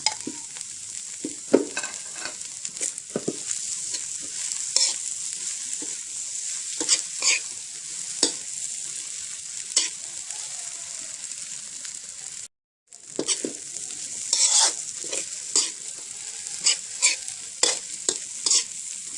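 Fried rice with fresh Chinese kale being stir-fried in a pan, a steady bright sizzle with repeated scraping stirs of the spatula, close and loud, with a brief drop-out midway.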